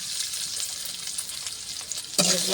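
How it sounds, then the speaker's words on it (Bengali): Chopped onions sizzle steadily in hot mustard oil in a pan for curry, with a louder burst of frying near the end and no talking. "কচুর ডিমের ঝোল করার জন্য সরষের তেলটা দিয়ে দিলাম, পেঁয়াজ কুচিগুলো দিয়ে দিলাম"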